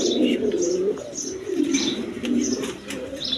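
King pigeons coo in soft, low, repeated rolling calls close by, with a few faint chirps and light rustling between them.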